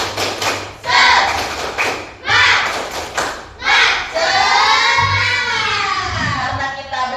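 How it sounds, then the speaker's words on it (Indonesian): A class of schoolchildren claps out the rhythmic 'tepuk semangat' cheer, loud bursts of hand claps in quick patterned groups, mixed with young voices chanting and shouting along. "Coba tepuk semangat dulu. Tepuk semangat."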